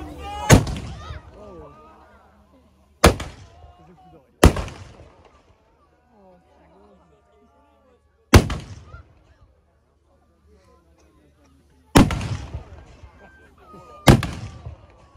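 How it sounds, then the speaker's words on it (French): Shotguns fire outdoors, six sharp, loud blasts spaced irregularly over about fifteen seconds, each with a ringing echo tail, while people talk and call out between the shots. "Attention! Coup de feu!"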